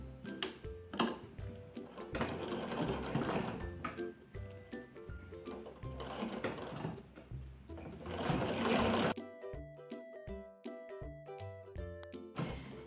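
A sewing machine stitches a dress in bursts, a close, rhythmic mechanical whirring that rises and falls, and it stops near the end, leaving ticking and quieter machine sounds, with no one speaking.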